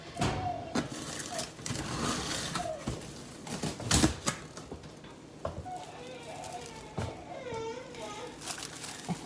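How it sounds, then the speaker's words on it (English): A young child whines and fusses in the background of a kitchen where sandwich bread dough is being made. The whimpers come faint and intermittent among clattering and tapping sounds, with someone talking at times. "We got somebody whining in the background here. He's mad because he dropped all his toys."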